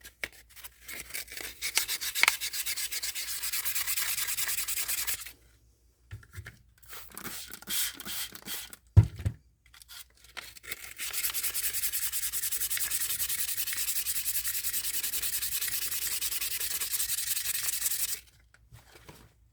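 A resin casting is sanded by hand in long, steady rasping strokes that run for several seconds each. Two clear pauses break the close, loud scraping, and no one speaks.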